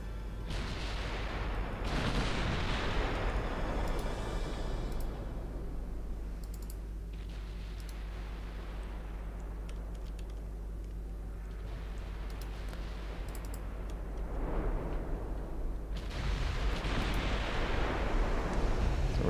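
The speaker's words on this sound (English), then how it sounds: "We're taking return fire now from the battleships." Naval artillery from battleships in Ultimate Admiral Dreadnoughts: heavy booming salvos with long rumbling decays, several loud bursts spread across the stretch, including near the start and end, over a steady low drone of ship ambience.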